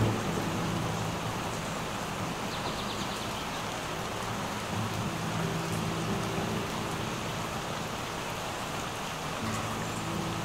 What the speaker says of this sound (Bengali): বাইরে গুড়ি গুড়ি বৃষ্টি পড়তে শুরু করেছে